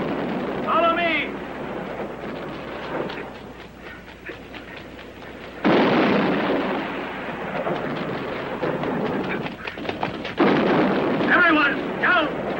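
Heavy gunfire and booming explosions in a war film battle, a sustained roaring barrage with sharp blasts, shouting voices breaking through the din.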